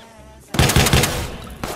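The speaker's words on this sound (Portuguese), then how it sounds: "como que você dá uma rajada de tiro no camarada" A short burst of gunfire in Watch Dogs 2, a rapid string of four or five close, loud shots after a quiet moment, followed by one more crack.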